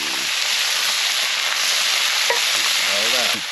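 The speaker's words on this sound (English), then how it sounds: "Now we're going to go ahead and add our Marzano whole plum tomatoes in there." San Marzano whole plum tomatoes go into a pan of softened vegetables over an open fire, producing a continuous loud sizzle and hiss of frying with brief stirring scrapes near the end.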